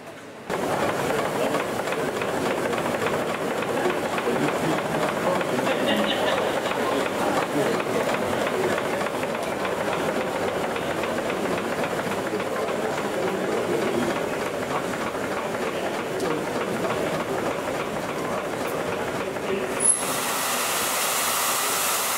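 A large steam pumping engine at Kempton Steam Museum runs with its big flywheel turning, making a continuous rhythmic mechanical chugging and clatter throughout, with voices in the background.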